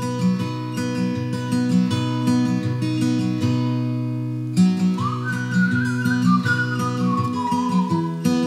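People whistling a melody within a song, a sustained whistled line gliding over a steady, loud musical backing.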